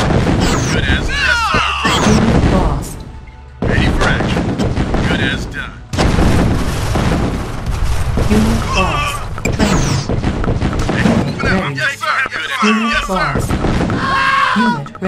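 Heavy gunfire and artillery-like booms in the Command and Conquer Tiberian Sun GDI mission to secure the crash site, a dense, continuous roar of shots and blasts with unit voice responses heard over it.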